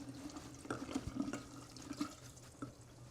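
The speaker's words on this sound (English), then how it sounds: "I'm gonna pour the water, which is 4 cups of water" Four cups of water poured into a container for limoncello sangria with superfine castor sugar, a soft irregular splashing and gurgling close by, fairly quiet, with no voices.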